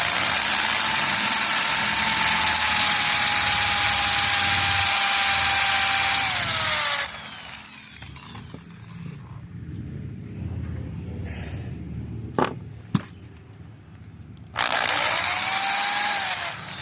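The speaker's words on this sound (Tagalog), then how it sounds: "Butasan na natin para lagyan ng tornilyo." Power drill boring a screw hole into a fishing rod reel seat, a steady high whine for several seconds that cuts off, a quiet stretch with brief clicks, then the drill starting up again.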